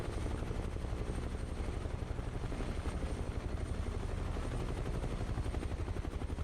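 A UH-1H Huey helicopter hovers in Microsoft Flight Simulator, its rotor beating in a loud, fast, even thump over a heavy engine drone that runs without pause and without talk.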